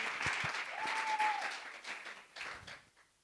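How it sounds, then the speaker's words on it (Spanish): A church congregation applauds for the Lord in a steady wash of clapping that swells, then gradually thins and fades. "Un aplauso que no es para mí, que es para el Señor"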